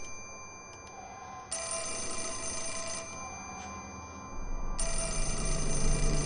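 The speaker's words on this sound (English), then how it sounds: "the phone was ringing" A telephone rings inside the Fatal Frame: Mask of the Lunar Eclipse horror game, its electronic bell pulsing in bursts over a low droning ambience that grows louder toward the end, with no talking.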